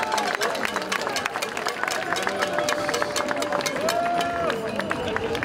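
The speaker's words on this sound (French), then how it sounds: "On peut les applaudir." Rally crowd of anti-COVID-restriction protesters in Paris clapping for demonstrators arriving by bicycle: dense, steady patter of many hands mixed with crowd murmur and voices throughout.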